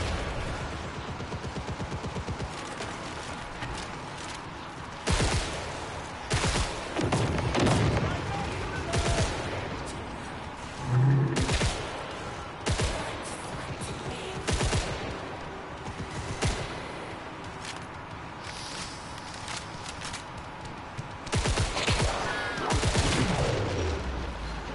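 Turret gunfire in the video game Killing Floor 3 crackles in repeated loud bursts and rapid volleys, with sharp booming shots scattered across the scene over a constant background of game noise.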